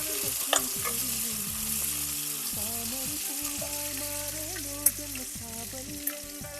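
Chopped onions sauté in a pan for killi potta sambar, giving a steady low sizzle beneath tuneful background music, with a few sharp clicks of utensils scattered through.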